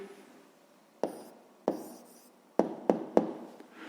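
A pen writes down the answer to a fifth-grade maths exercise. Five or six sharp taps and short scratching strokes fall at uneven intervals, close and alone.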